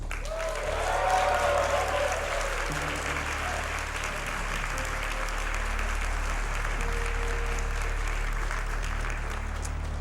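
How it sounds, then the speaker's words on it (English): Audience applause and cheering fill a large hall at Summer Games Done Quick 2015, a speedrun marathon event, as Super Metroid runners are introduced; sustained and loud throughout, with an announcer's voice briefly over it. "In the bottom left, let's have a cheer for Straevaras."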